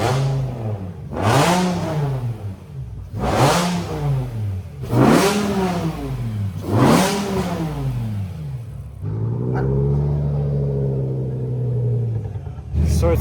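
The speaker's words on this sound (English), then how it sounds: "at least the car is running and idling kind of normally now" A BMW M5 E60 V10 engine, in a car that had been rolled, revs loudly in four rising-and-falling blips close by, then settles into a steady, even idle.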